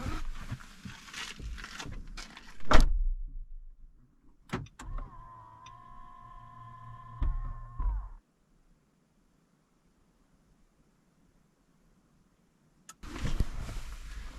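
A car door shuts with a solid, low thump, followed by brief clicks and a steady electric motor whine lasting a few seconds. Near-silence follows before muffled rustling returns, with no voices.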